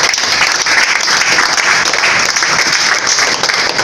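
A church congregation applauds loudly and steadily, a dense continuous wash of clapping close by with no pauses.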